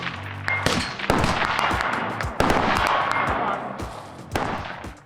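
Carbine gunfire at an outdoor shooting range: several sharp, loud reports spaced irregularly, each with a ringing tail, close by.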